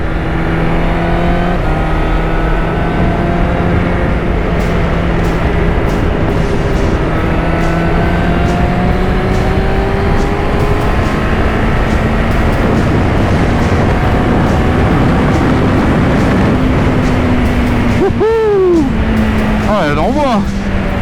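A derestricted QJ Motor motorcycle pulls hard along a straight, its engine droning loud and steady with rising pitch through the gears, thick wind roar over everything and a rider's voice breaking in near the end.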